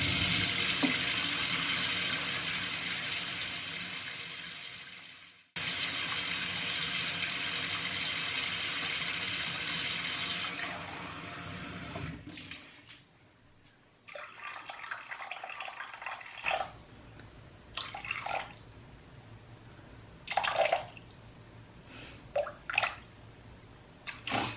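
Ice-cold water pours steadily into a bowl for focaccia dough, a loud continuous stream that stops briefly and then resumes, followed by quieter drips, knocks and clinks.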